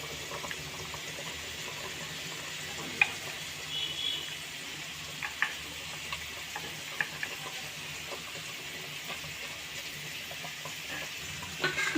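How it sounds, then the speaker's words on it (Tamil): Milk kozhukattai in a pan bubbles and simmers with coconut added, a soft steady sizzle with light stirring clicks and scrapes close by. "நல்லா கொதி வந்துருச்சு. இப்போ தேங்காய் பூ போட்டு நம்ம இறக்கிடலாம்."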